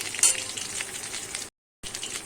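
Pointed gourd (potol) fries in a pan with an even, moderate sizzle and light stirring, cut by a brief gap of silence before the frying resumes.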